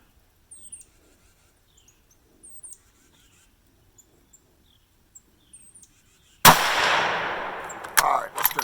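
A Ruger American Predator rifle in 6.5 Grendel with a muzzle brake fires one loud, sharp shot outdoors in heavy snow, with a long decaying echo and a second crack soon after, following quiet faint chirps.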